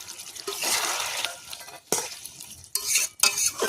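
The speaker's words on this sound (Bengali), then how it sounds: "এবারে এর মধ্যে দিয়ে দেব ভেজে রাখা আলু।" Fried potatoes are tipped into a pan of chicken curry and stirred, with scraping, clattering utensil strokes and soft sizzling coming in bursts and short pauses, close up and with no talking.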